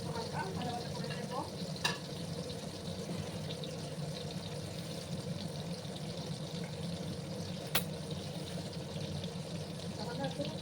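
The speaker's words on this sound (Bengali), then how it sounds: "খুব বেশি কড়া করে কিন্তু আমি ডিমগুলোকে ভাজবো না," Eggs for an egg curry sizzle steadily in a pan while being stirred, giving a constant soft frying hiss with scraping movement and two sharp clicks from the utensil.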